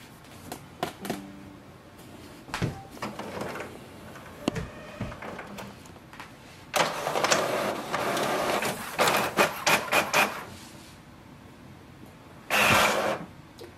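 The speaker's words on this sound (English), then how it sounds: "So let's do a print test page." An HP OfficeJet Pro 9130e inkjet printer prints a test page: clicks and clunks, then a whirring, buzzing stretch of printhead passes, and a final burst as the page feeds out.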